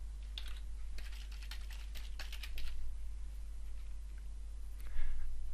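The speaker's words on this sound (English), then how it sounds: "Simply type in the tag name you wish to create." A computer keyboard is typed on in a quick run of light, closely spaced key clicks, pausing midway before a few more taps, close and alone in a quiet room.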